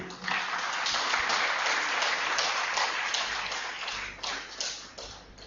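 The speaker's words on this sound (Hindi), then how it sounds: "मेरी गुजारिश है कि आप जोरदार तालियों से उनका स्वागत करें" An audience at a talk on indigenous medicine breaks into sustained, dense applause that fills the room, staying strong before tapering and fluttering near the end.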